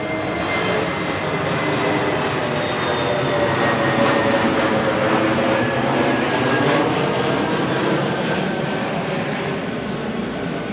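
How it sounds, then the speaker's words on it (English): A military jet passes overhead with a continuous, broad roar that holds steady and fairly loud across the whole stretch, with no other sounds standing out. "jet going over."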